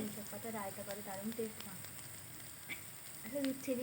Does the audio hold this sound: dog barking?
no